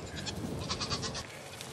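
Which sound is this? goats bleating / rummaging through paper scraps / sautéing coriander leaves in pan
goats bleating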